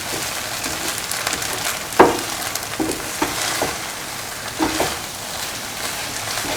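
Egg and vermicelli being stirred and scrambled in a hot pan, a steady sizzle and frying hiss with occasional scraping clinks of the utensil against the pan.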